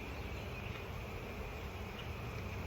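Honey bees buzz densely around hive frames during a summer inspection, a continuous close, even drone with no talk.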